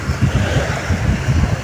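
Strong wind blowing outdoors in a cool, breezy spot, a steady low rumble with gusting swells buffeting the microphone throughout, no voices.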